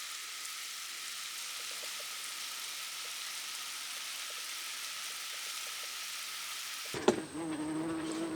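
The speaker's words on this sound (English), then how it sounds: "That is literally a wasp on the viewfinder." A wasp buzzes close to a camera outdoors as a steady, droning hum for several seconds, then shifts to a louder, rougher buzz with a sudden bump near the end.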